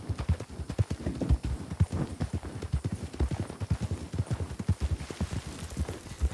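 Arabian horse hooves in Red Dead Redemption 2 clip-clopping at a steady trot, a continuous run of close, fairly loud rhythmic hoofbeats with no talk over them.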